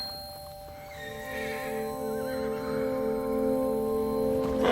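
Horses neigh and whinny in a dramatic film scene, the calls rising over a steady tonal background of music-like hum, moderately loud and sustained across the stretch with no talking.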